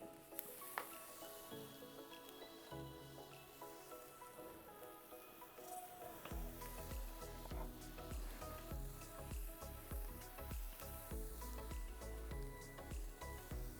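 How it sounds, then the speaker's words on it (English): Lime garlic lamb chop skewers sizzle steadily on hot coals, a dense crackling hiss that grows louder and fuller partway through and keeps going without pause. "You guys hear that sizzle?"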